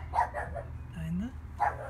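A dog gives a couple of short barks with a brief whine between them, fairly close, against a low steady background hum, in Edmonton in summer.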